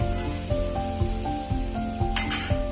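Raw mango vaghariyu sizzles in a pan while it is stirred now and then, a steady close frying hiss with a few soft scrapes and one brighter clink of utensil on metal near the end.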